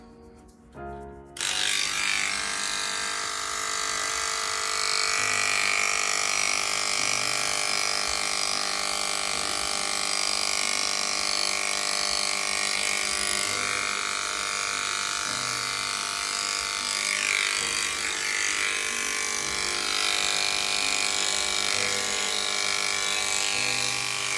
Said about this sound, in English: I have my clipper with a 1 guard and I just go 1 guard all over